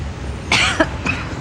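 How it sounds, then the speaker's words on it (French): A short burst of coughing, two or three dry coughs close to the microphone, with no talk. "tu tousses encore"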